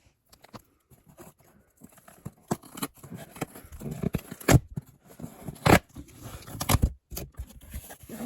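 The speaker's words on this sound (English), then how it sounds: "I actually brought scissors this time" Scissors cutting open plush toy packaging, a series of faint snips and sharp plastic crackles and scrapes, irregular and close, growing busier toward the end with quiet gaps between.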